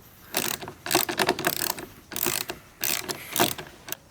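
A hand ratchet clicks in quick bursts, close and crisp, as 10mm bolts come off a Porsche rear spoiler, several separate runs of rapid pawl clatter with short pauses between them and no talking.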